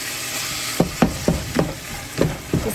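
Steady frying sizzle of a hamburger and biscuit bake with a series of sharp, regular scrapes or stirring knocks roughly every quarter second, close and fairly loud, with no talking.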